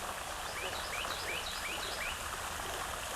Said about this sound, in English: As you can hear the birds in the background.